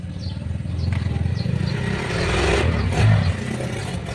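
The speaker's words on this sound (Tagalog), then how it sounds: "yung compressor po umuugong" The compressor of a water dispenser that is not cooling hums steadily while it runs, a low, continuous drone close by with faint clatter and rattling on top, heard with no voices.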